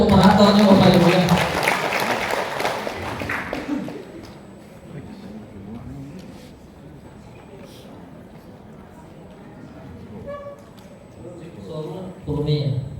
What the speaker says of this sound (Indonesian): Tepuk tangan dulu untuk operatornya Bapak Ibu ya.